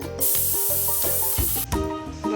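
A pressure cooker holding drumsticks with onion, tomato, chilli, garlic, ginger and turmeric vents steam in a loud, continuous hissing whistle with a pulsing tonal buzz, briefly breaking and resuming.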